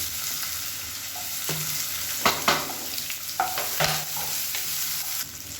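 Small shallots sauté with golden chana dal and curry leaves in hot oil, giving a steady nearby sizzle with a few clattering stirs and scrapes of a spoon against the pan.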